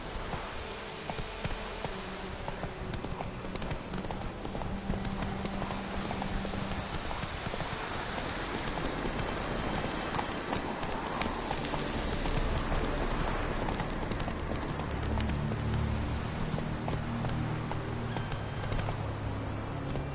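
A horse galloping in The Witcher 3: Wild Hunt, its hooves beating a rapid, steady clip-clop for the whole stretch over low sustained game tones, with no speech.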